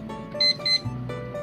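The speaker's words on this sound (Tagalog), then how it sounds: "mag-timer muna tayo na" A kitchen timer beeps in short electronic bursts as it is set for a fish paksiw dish simmering on low heat, close and clear over a steady background hum.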